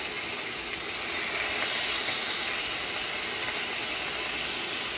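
Pork chops sizzle and hiss steadily in a cast iron pan, a bright, even frying sound that stays close and loud throughout with no talking.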